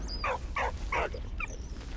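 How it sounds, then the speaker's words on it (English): A dog in a video game barks several times in quick succession at a fire, with three or four sharp, evenly spaced yaps standing out close and clear over a low rumble. "Are you barking at the fire?"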